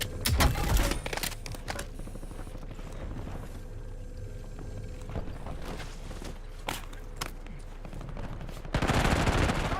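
Gunfire in the Black Ops 6 Warzone video game, with rapid machine-gun bursts and single shots cracking irregularly over a steady background, plus a loud burst at the start and another near the end.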